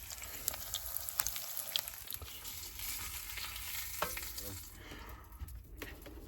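An egg frying in a pan sizzles steadily and fairly loudly throughout, with a few brief scrapes and clicks of stirring over the hiss and no voices.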